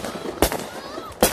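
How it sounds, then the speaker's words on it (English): Fourth of July fireworks far away, two brief booms about a second apart, with people's voices heard faintly in the background. "there's some fireworks over there"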